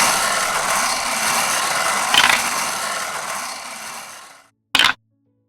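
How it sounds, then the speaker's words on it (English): A prize wheel spins with a steady, dense rattle of clicks that slows and fades, stops, then gives one last brief loud click. "Let's spin that wheel."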